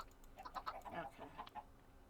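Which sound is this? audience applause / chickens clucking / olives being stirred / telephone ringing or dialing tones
chickens clucking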